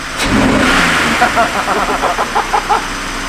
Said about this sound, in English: Okay, rev it.